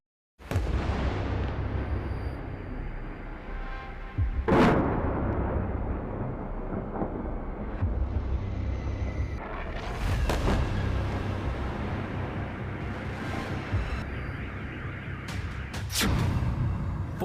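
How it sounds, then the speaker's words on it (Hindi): Kinzhal hypersonic missile strikes on Kyiv: several heavy, distant explosions burst a few seconds apart over a continuous low rumbling roar, with no voices. "किंजल हाइपरसोनिक मिसाइल से कीव पर जो हमला हुआ है"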